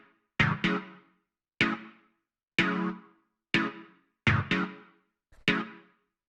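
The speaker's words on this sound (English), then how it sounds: "So these are the kind of stabs you can hear in a lot of this style of house," Short, punchy house-music synth stabs in a deep house style, chords hitting in separate bursts with brief decaying tails and gaps of silence between them, close and clear.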